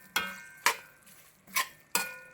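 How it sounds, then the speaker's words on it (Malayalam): Spoon strokes stirring chopped tomatoes in a cooking pan for a mixed vegetable kurma, four sharp scraping clacks at an even pace, close and clear with no talking. "ഇനി നന്നായിട്ട് ഇളക്കി കൊടുക്കുക."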